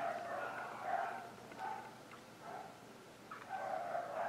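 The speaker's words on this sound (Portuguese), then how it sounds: "Agora os cãezinhos começaram a latir." Small dogs bark and yip in scattered bursts at a moderate distance, several high-pitched yaps overlapping now and then.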